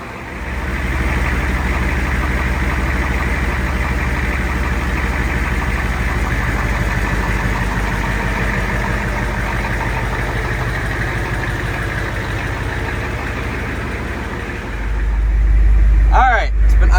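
A rebuilt 1973 diesel Ford Highboy truck idles steadily in snow, a continuous low rumble with a faint knock close to the microphone, swelling briefly louder near the end.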